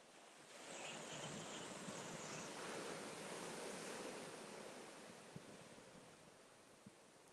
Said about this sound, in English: Bit of a wave, a little bit of a wave there.